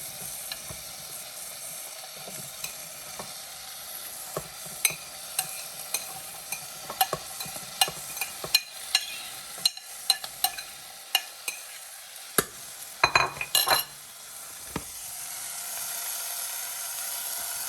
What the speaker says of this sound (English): We just turned it on and you can already hear it sizzling.